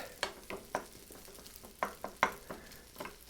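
Egg and sausage fried rice with butter, meat and garlic being stirred in a pan, with a soft sizzle under repeated sharp scrapes and taps of the utensil against the pan, close and irregular.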